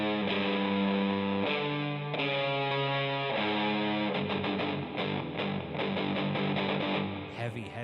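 A heavy, distorted electric guitar riff playing Holst's "Mars, the Bringer of War" with sustained chugging chords, loud and dense, changing pattern partway through.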